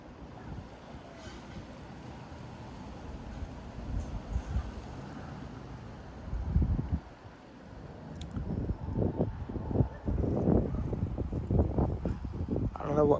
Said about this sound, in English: It's probably going to be like 20-mile-an-hour wind gusts, but it's actually 30.